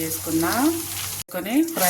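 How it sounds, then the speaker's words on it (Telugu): Sliced onions sizzle in an oil-filled pan after bitter gourd has been fried, a steady close hiss running throughout, briefly cut off midway, with a melodic voice-like tone layered over it. "కాకరకాయ ఫ్రై చేసుకొని ఒక గిన్నెలో తీసుకొని ఉల్లిపాయలు ఫ్రై"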